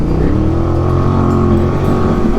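A motorcycle engine revs hard and steadily up close while the bike crosses deep water and sinks halfway, a loud continuous drone with churning water noise.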